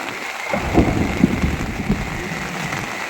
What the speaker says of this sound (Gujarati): વરસાદે ભૂકા કાઢ નાખી.